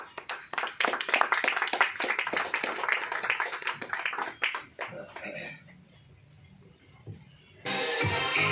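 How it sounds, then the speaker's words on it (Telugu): Audience clapping at a photo garlanding ceremony in a Telugu Christian gathering: several seconds of dense, moderately loud applause that thins and fades, then a burst of noisy sound near the end, with voices audible beneath. "మనమందరూ కూడా వారు గార్లెండ్ చేయగానే చప్పట్లను కొట్టి"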